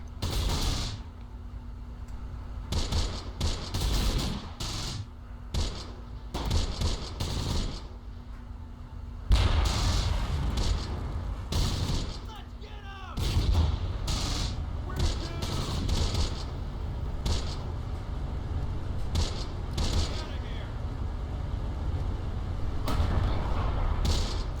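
Relentless mortar and gunfire in the WWII strategy game Close Combat: The Bloody First, with repeated loud blasts and bursts coming in irregular clusters, a heavier barrage after the midpoint, and faint speech at times.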